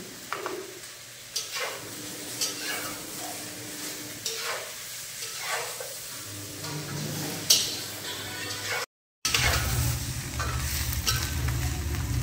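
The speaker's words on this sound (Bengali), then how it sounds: "সব সবজি খুব ভালো মতো ভাজা হয়ে গিয়েছে।" Chopped eggplant and radish with salt fry in a pan in a home kitchen, giving a soft sizzle broken by regular scraping stirs and clinks, with a louder burst of sizzling at the end.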